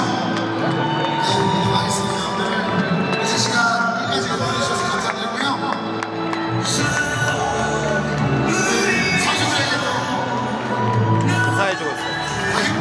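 A football stadium crowd of supporters chanting, cheering and clapping together, a dense, steady roar with rhythmic claps, while a nearby voice talks over it.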